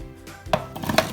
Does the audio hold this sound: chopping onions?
yes